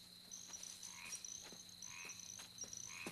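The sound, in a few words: frogs croaking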